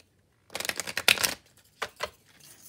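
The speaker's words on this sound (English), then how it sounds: "I'm going to do some hard shuffles on the table." Cards are riffled hard against a table, a quick burst of rapid crisp flutters followed by a couple of short taps as the deck settles.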